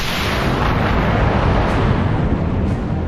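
A sound effect from a Mulan storybook record: a cannon fuse catches light and a rocket fires, a loud, continuous roaring hiss lasting about three seconds with no voices over it.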